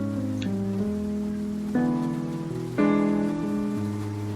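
Steady rain at night in the noir adventure game Face Noir, a constant hiss beneath sustained music with swelling chords, no voices.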